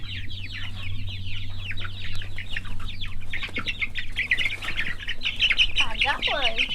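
Chickens at a backyard farm, including the Maran breed, cluck and chirp continuously close by, with layered bird calls and a low hum beneath throughout.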